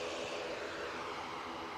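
An airliner on the runway at Manchester Airport, a steady, broad jet engine roar heard from a distance, constant in level throughout with no talk.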